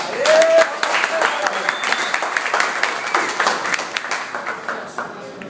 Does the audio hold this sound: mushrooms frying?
no